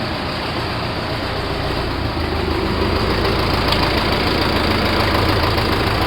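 A tractor engine runs steadily and loudly close by, a continuous rumbling drone with no pauses and no voices.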